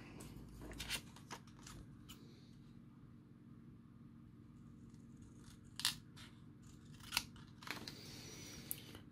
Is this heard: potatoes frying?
no